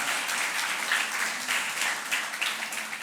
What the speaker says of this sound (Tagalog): pumalakpak sa ating Lord